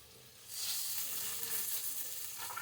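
Two or three leaf sprigs drop into hot tempering oil for a chukka leaf pachadi and burst into a sudden bright sizzle that keeps crackling and hissing steadily close by.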